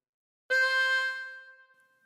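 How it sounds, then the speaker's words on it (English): One harmonica blow note on hole 4 from the Star Spangled Banner melody starts sharply, sustains a clear reedy tone and decays gradually, with no other sound around it. "Blow into 4."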